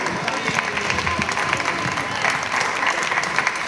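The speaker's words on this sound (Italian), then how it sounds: "Asia, un applauso!" Dense audience applause fills a gala hall at a voice academy showcase, steady and loud throughout with a faint cheer mixed in and no talk over it.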